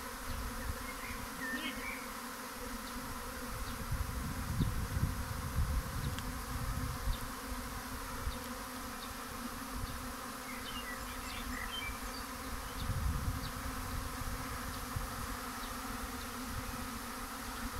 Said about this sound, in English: And it's all about bees and swarms.